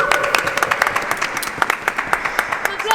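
A film crew claps together at the wrap of a music video shoot, a burst of scattered, uneven handclaps close by with some voices mixed in.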